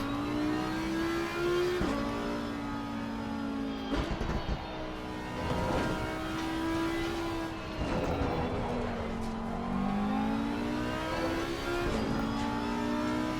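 A race car engine in a racing video game revs loudly and steadily, its pitch climbing and dropping through gear changes with a few brief cuts, with no talking.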